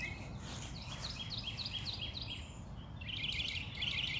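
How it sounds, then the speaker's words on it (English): Birds chirp in a garden in a quick series of short, bright calls, then a denser flurry near the end, over a steady low background hum. "The birds chirping."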